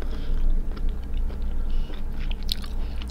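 Giant B.C. crab meat being chewed close up, a steady run of crunchy bites and wet mastication with no talking.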